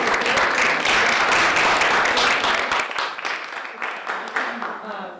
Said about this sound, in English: I want to give Emily, Joe, and Jess a round of applause.